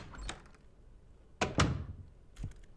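A door in the Nightmare Of Decay horror video game opens with a few hollow thunks and a sliding knock, close and fairly quiet against a soft background.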